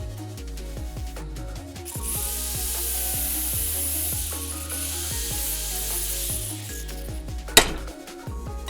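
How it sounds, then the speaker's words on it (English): Cutting wheel slicing through studs on a Toyota skid plate, a continuous loud whining grind with shifting pitch and a sharp metallic spike near the end, close up. "I'm just going to use a cutting wheel, and we're just going to cut through these studs."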